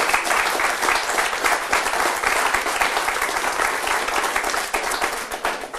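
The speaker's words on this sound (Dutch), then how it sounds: "klapt u even voor deze keer." Sustained, dense applause from an audience at a Venlo election debate in 2014, steady and loud throughout with no pause.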